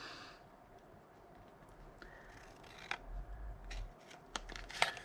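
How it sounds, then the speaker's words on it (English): Craft scissors snipping a piece out of paper for a handmade card, a few sharp close cuts spaced irregularly over faint rustling, with no talking. "So I'm going to just snip out."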